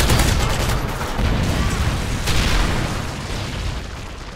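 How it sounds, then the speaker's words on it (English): A Predator missile blast in a first-person shooter game, a loud, dense rumbling explosion that fills the moment and slowly trails off. "Friendly Predator missile inbound."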